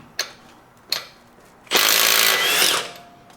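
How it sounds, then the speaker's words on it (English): An impact gun zips a lug nut off a 2021 Honda Ridgeline wheel in one loud, rattling burst of about a second, after two sharp metallic clicks. "Alright, so we're going to use our impact gun."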